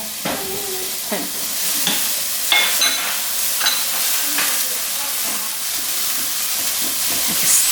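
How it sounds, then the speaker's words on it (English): Browned onion frying with freshly added ginger and jalapeno in an oil-free pan, a steady close hiss and sizzle broken by frequent scraping stirs of the spoon across the pan. "my onion, it's brown. So what I'm gonna do is I'm gonna add my ginger and my pepper, my jalapeno"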